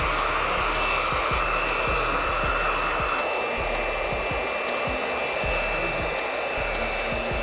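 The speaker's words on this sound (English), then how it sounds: "I'm gonna go ahead and blow dry it." A hair dryer runs steadily and close for the whole stretch during a barbershop high taper brush-back cut, a loud continuous blowing roar with faint rhythmic clicks underneath and no talking.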